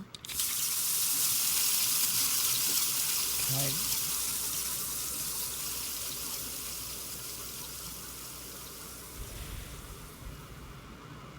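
Water gushes steadily through a pipe in the Tunguska video game, a loud broadband rush that fades slowly, with a brief spoken voice early on.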